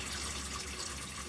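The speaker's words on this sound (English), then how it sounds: "now we drain this disgusting oil" Used engine oil from a 2018 Ram 3500 pickup's oil pan pours out in a steady, close stream, a continuous liquid splashing into a drain container.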